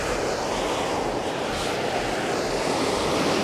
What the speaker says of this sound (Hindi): एक और हॉट स्प्रिंग है जिसमें से गर्म पानी निकल रहा है, और इसकी आवाज़ सुनाई दे रही होगी आपको